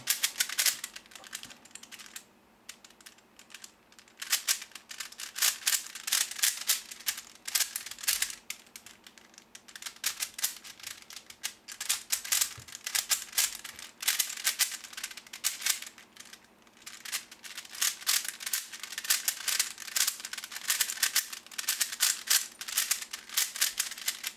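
A V-Cube 6 puzzle cube is turned over and over while being solved, giving dense bursts of quick plastic clicks and rattles with a few short pauses between runs.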